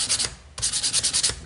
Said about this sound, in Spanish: Vamos a lijarlo por todo para que entre bien en su sitio.